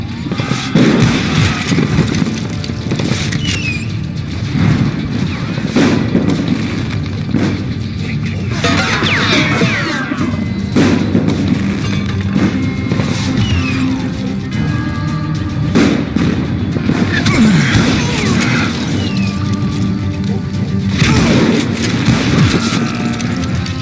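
Dense, loud gunfire from the Call of Juarez western shooter, sustained shots and bursts overlapping with engine-like rumble and crackling for the entire stretch.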